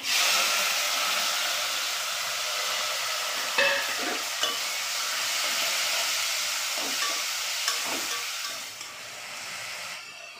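Mixed vegetables sizzle and hiss steadily in a hot pan, a continuous frying noise with a few sharp stirring clinks and scrapes scattered through it and no talking.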